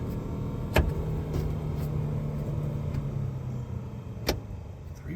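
A 1970 Ford Falcon's heater blower motor hums with a steady whir throughout, with two sharp clicks breaking in, one early and one near the end.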